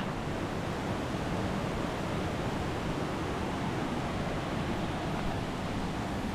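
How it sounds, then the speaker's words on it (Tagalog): A waterfall on a mountain trail roars as a steady, dense wash of broadband rushing water, loud and unbroken throughout with no voices. "Ito na yung falls."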